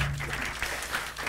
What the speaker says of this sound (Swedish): Då tycker jag vi applåderar igen.